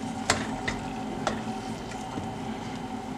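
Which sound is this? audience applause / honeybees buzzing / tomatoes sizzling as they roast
tomatoes sizzling as they roast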